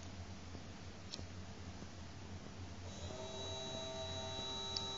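A small electric motor on a breadboard circuit with a transistor and LED spins up partway through, adding a thin steady whine over a constant low electrical hum, with a couple of faint clicks.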